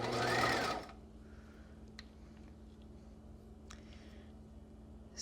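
A sewing machine stitches the center back seam of a top in one quick, close burst under a second long, then cuts off into near silence with a few faint handling clicks.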